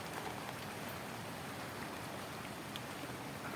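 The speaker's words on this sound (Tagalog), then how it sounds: "Ganito sa amin pag umuulan" Heavy rain falls during flooding, a constant, dense patter and hiss of rainfall at a fairly soft level with no talking.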